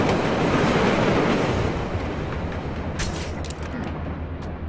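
A train rumbling past in the stealth game Splinter Cell Blacklist at a transit yard: a loud, steady, broadband roar that eases slightly toward the end, with a few sharp metallic clanks near the close.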